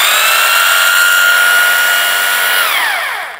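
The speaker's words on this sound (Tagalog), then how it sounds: "So, ito, hammer drill lang to." A secondhand hammer drill runs alone at close range with a loud, steady high motor whine, then spins down as the trigger is released near the end.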